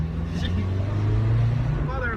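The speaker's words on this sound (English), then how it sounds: "I'm going to be sitting in the back of the Subaru, and the car is going to accelerate" A Subaru car pulling away with a deep, rising engine drone, steady and fairly loud from inside the cabin, with a voice breaking in briefly near the end.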